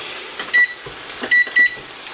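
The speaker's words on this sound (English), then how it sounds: "now I'm going to set my timer for 2 minutes" Three short, loud electronic beeps from a kitchen timer being set for a two-minute cooking step, close by, over a steady background hum with no talking.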